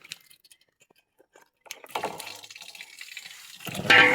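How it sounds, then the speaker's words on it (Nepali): Water rushes strongly from a pipe at a household tap, starting faint and swelling into a loud, steady gush after a quiet stretch, with a sharper splash near the end; no talking. "पानी चाहिँ आउँछ साथीहरू जोडले"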